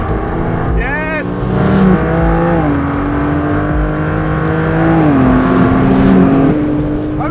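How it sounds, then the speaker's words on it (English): Twin-turbo S58 inline-six of a 2021 BMW M4 Competition revving on a racetrack, engine pitch climbing and shifting in steps through gears, loud and close, with a brief high whistle early on. "S58, the engine. This is a serious unit, still a twin-turboed inline 6 like the last gen"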